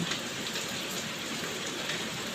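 Steady rainfall in Ayutthaya, Thailand, the first of the year, makes a constant close hiss of drops drumming on surfaces, unbroken and without speech.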